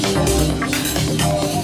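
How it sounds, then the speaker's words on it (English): Synth performance passed through a bandpass filter into lo-fi, chorus and dark reverb effects on a hardware performance mixer, a brief wide, murky wash of sustained tones with a soft rhythmic pulse, loud and alone. "So this first effect is kind of like a bandpass filter that's running into a lo-fi and then going into a"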